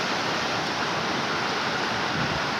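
Heavy rainwater floodwater flows through Sendriamba village in Dang, a loud, continuous broadband rush without letup, close by and unbroken by voices.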